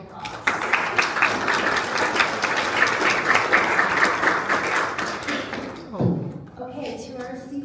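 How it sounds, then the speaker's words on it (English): Sustained audience applause at a human rights panel discussion, steady dense clapping from a room of people for about six seconds before cutting off, followed by faint shuffling and a voice. "Could we please give this author and this freedom a round of applause?"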